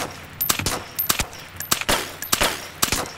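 An AK rifle fires in the video game DayZ, several loud, sharp shots in quick bursts of two or three, closely spaced and sounding near.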